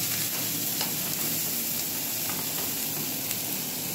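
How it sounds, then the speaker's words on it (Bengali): Onions fry in hot oil with bay leaf, cinnamon, cardamom and five-spice for a mutton curry, a steady bright sizzle with faint scraping stirs, close and continuous without speech. "পেঁয়াজটাকে খুব ভালো করে ভেজে নিচ্ছি।"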